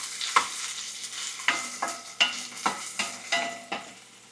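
Chopped onion stirred and frying in a pan for a Filipino fish dish, with a steady sizzle and a series of sharp scraping stirs at a regular rhythm, close and moderately loud, with no talking.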